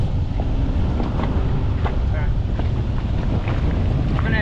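A dinghy motor speeds up on choppy water near Shroud Cay in the Exumas, a steady loud roar mixed with heavy wind buffeting and splashing hull slaps.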